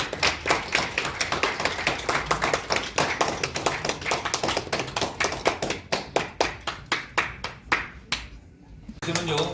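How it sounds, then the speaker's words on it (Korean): Audience clapping at a Korean media event during a commemorative photo session, a dense run of sharp hand claps that thins out near the end before a brief pause and renewed applause. "박수 한번 주시죠"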